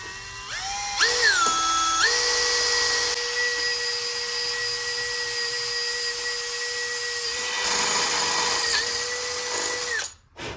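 Holes are drilled into a Yamaha outboard's midsection with a power drill, its motor whining steadily and loud at close range. Short pitch dips mark the bit biting in, and the drill runs almost unbroken for about ten seconds before cutting off.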